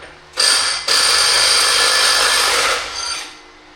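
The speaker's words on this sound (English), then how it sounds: "So we're going to take the nut off first and then spread the clutch." A power tool whirs to loosen the 36 mm CVT secondary clutch nut on a 2023 CFMoto Uforce 1000XL, two close bursts of high-pitched spinning with a short pause between, running about three seconds.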